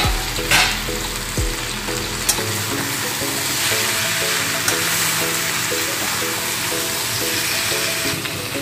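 Ridge gourd frying in a pan for a Bengali pui saag chorchori, a loud close steady sizzle with a few sharp clanks of the spoon at the start.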